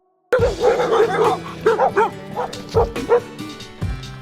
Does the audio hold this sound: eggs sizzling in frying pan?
no